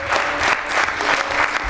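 Audience clapping at an apprentices' award ceremony, a dense, loud burst of applause from many hands that stays steady for a couple of seconds.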